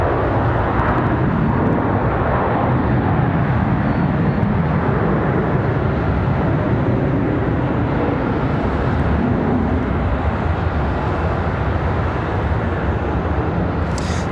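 A fixed-wing airliner arriving at Charlotte Douglas airport produces a loud, continuous engine roar that holds steady throughout, close and alone without talk.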